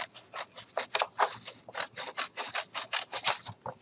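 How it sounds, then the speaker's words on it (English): Scissors cut paper along a marked line in a quick, steady run of close, crisp snips, each cut opening and closing in a regular rhythm with no talking. "I'm going to grab my scissors and I'm going to go ahead and cut on that little mark"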